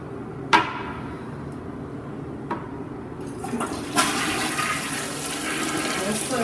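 An aging toilet flushes in a small residential bathroom, water rushing up steadily and filling in after a few sharp clicks and knocks, at moderate distance.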